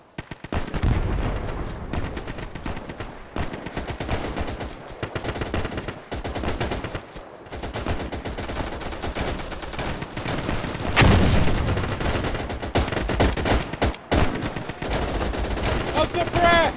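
Constant gunfire and machine-gun bursts from the Easy Red 2 video game, set in the 1945 Battle of Hill 170 in Burma, with dense rapid shots and heavier booms, near and loud throughout.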